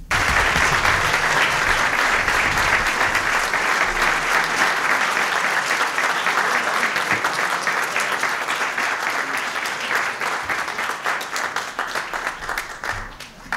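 Sustained applause from an audience at a state dinner, dense and loud clapping that holds steady for most of the stretch before thinning slightly at the close.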